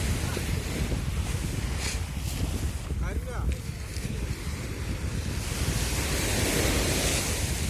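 Rough sea surf breaking at the shore where fishermen haul in a net, heard as a continuous loud roar and wash buffeted by wind noise, with people's voices calling briefly in the middle.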